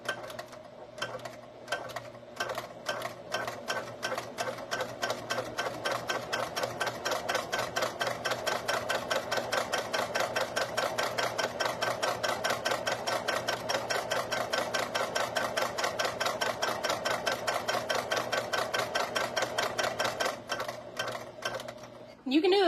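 A sewing machine runs steadily while stitching webbing keychains, making a fast, even mechanical chatter that lasts almost the whole time. Its motor hum sits beneath the stitching, and the machine stops near the end.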